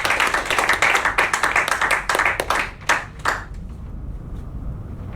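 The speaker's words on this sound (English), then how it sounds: "A big round of applause for Patrick." A small audience at a Toastmasters meeting claps for a speaker named Patrick, a close, brisk burst of hand claps lasting about three seconds that thins to scattered claps and then stops.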